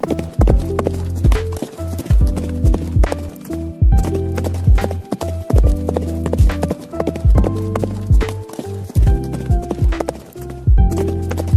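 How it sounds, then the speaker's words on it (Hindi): Horse hooves clip-clopping as riders travel through a forest, a brisk, steady rhythmic beat of close, clear hoofbeats that runs throughout with brief pauses. "वो दोनों घोड़े पर बैठते हुए जंगल में अपना सफ़र तय करते हैं।"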